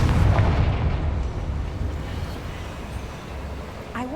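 A Confringo fire spell bursts in Hogwarts Legacy with a loud, deep boom at the start, then a low rumble that slowly dies away into quieter background.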